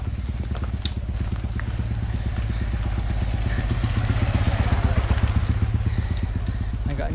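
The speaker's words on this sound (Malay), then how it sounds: "Motor." A motorcycle engine runs close by with a rapid, steady putter, the idle throbbing evenly throughout with a slight rise in intensity.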